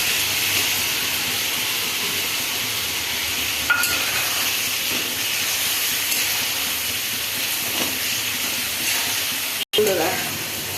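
Ridge gourd and potato simmering in a pan after poppy seed paste goes in, giving a constant loud hiss and bubbling sizzle with a couple of brief knocks of a utensil near the end.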